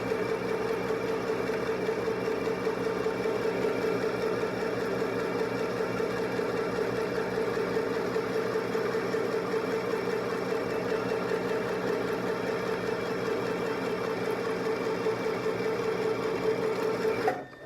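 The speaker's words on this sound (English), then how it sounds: "we're just going to sew this as a regular stitch" A sewing machine stitches the rise seam of a pair of pants with a regular stitch, a steady, close, continuous whirring hum that runs unbroken for over fifteen seconds before stopping abruptly.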